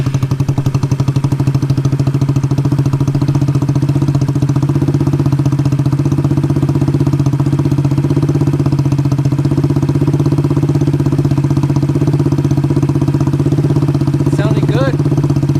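A Honda Ruckus scooter engine, fitted with new jets, runs at a steady loud idle with a low throbbing drone and light mechanical clatter throughout, close to the microphone.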